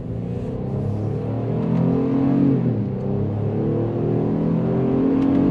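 A 2023 Honda Passport Trailsport pulls hard in manual shift mode, its engine note rising steadily through a rev climb with a brief dip partway, heard loud from inside the cabin with no talking.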